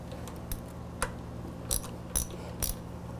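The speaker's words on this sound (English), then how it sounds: "Turn the ratchet." A ratchet tightens the bottom bolt of a motorcycle front fork, giving a handful of quiet, sharp clicks spaced roughly half a second apart over a low background hum.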